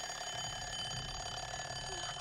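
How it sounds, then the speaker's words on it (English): An alarm clock rings in a bedroom scene from the 1984 horror film A Nightmare on Elm Street, a steady, continuous jangling ring that holds at an even level throughout with no talking. "then her alarm goes off"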